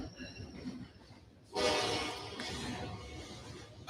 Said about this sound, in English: it's a freight train, so it's really loud